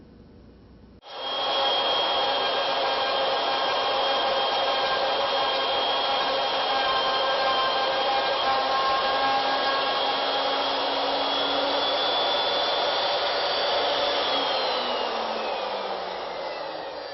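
A router fitted with a 1.25-inch surface planing bit milling wood stock round for a candle stick, starting abruptly with a loud, steady high whine that holds for about fifteen seconds and winds down slightly at the end.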